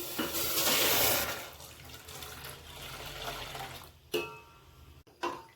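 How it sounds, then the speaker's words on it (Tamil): Milk pours into a cooking vessel in a steady, close liquid stream that thins out, followed by a couple of sharp clinks of the pot. "பாலை இந்த பாத்திரத்தில் ஊற்றுதேன்"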